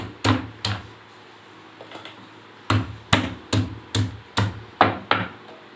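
Thai herbs pounded with a series of sharp, close knocks, first a few spaced blows, then a steadier run of strikes after a short pause.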